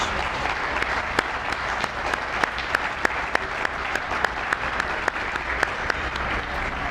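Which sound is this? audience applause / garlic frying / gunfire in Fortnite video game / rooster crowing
audience applause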